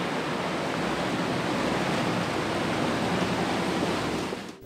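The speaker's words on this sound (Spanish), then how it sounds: "el primer obstáculo es este arroyo" A stream flowing across a road churns as a dense, steady rush of water, loud and unbroken throughout before easing off at the very end.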